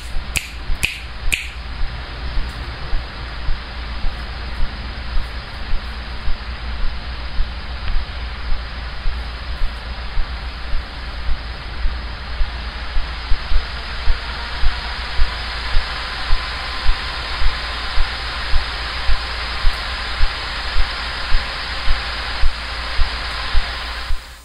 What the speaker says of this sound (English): Here's the sound of the Zephyrus Duo 16 at max fan speed